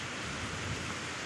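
Steady rain falls outdoors in a rural farming village. It is a dense, constant wash of noise, moderately loud and unbroken, with no voices.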